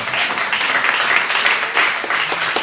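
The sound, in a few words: congregation applauding in church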